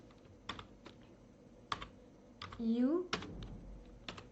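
Keyboard typing while making a maze game in PowerPoint: a few scattered key clicks, with a brief voice and a short rising whistle-like tone in the middle of the clip.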